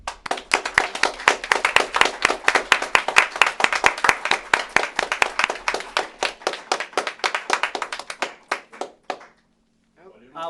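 A meeting audience applauds with dense, loud clapping that thins out and stops after about nine seconds, followed by a brief pause and faint voices.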